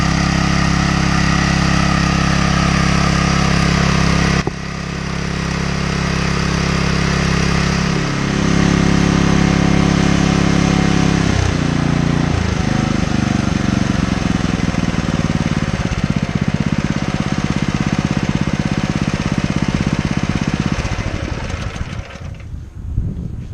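A fire pump engine runs steadily and loudly at close range, a continuous chugging drone that shifts in pitch partway through, then cuts off abruptly near the end.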